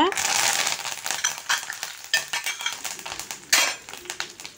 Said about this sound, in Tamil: எண்ணெய் சூடான உடனே அதில் கடுகு உளுந்தம்பருப்பு ரெண்டு காய்ந்த மிளகாய் கருவேப்பிலை போட்டு தாளித்து எடுக்கணுங்க